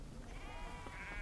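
A herd of sheep bleats faintly and at a distance over ranch land, the calls blending into steady outdoor ambience.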